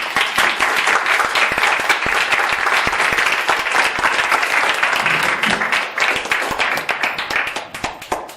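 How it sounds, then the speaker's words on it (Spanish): An audience at a book presentation in Zaragoza breaks into warm applause, crisp individual claps packed into a steady roar that gradually thins and fades over the last couple of seconds. "darle un fuerte aplauso por estar aquí con nosotros."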